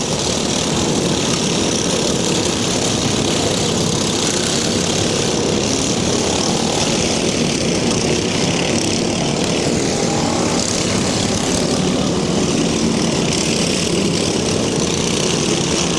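A pulling tractor at a Bash for Cash 2011 tractor pull roars continuously and loudly throughout, a dense, steady engine drone with no breaks, heard alone.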